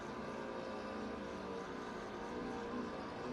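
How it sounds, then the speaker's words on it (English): BMW GT race car at Paul Ricard in a GT Americas race, its big engine droning in a steady, loud, unbroken roar at high revs, with no voices. "Now this is where the big engine from the BMW really shines."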